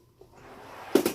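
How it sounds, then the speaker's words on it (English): A full-extension cupboard drawer in a Class A motorhome slides on its runners, ending in a brief close knock; quiet and near, with no talk. "All of our cupboards have full extension drawer slides."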